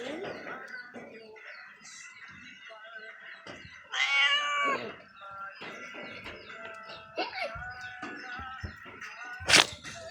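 A cat meows several times, close and fairly loud, with one long drawn-out wail and a sharp high cry near the end, over quiet background noise and a few faint bird-like chirps.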